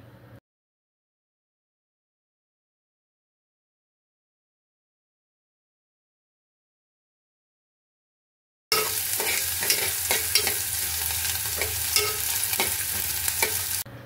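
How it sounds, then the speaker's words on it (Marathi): Onion frying in a spiced tempering sizzles steadily with stirring scrapes, loud and close, arriving suddenly after a long stretch of near silence and continuing to the end. "कांदा चांगला लालसर लालसर गुलाबी होईपर्यंत भाजायचा आहे।"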